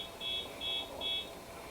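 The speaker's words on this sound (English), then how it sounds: "somebody got a cheap alarm?" A cheap alarm beeps three times in an even rhythm, each shrill electronic tone lasting about a fifth of a second, moderately loud over a low background hum.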